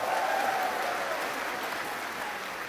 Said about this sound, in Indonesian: Boleh beri tepuk tangan untuk Ubah Bareng.